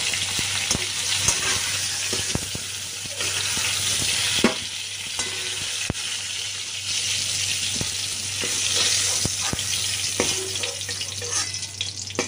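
Pieces of pointed gourd fry in mustard oil, giving a steady close sizzle broken by occasional sharp clacks and scrapes of a utensil turning them in the pan.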